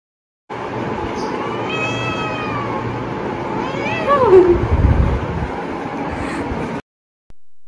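A cat meows indoors in a room, several drawn-out rising and falling calls that grow louder toward the end and briefly sound like a caterwaul, over steady low background noise, no speech.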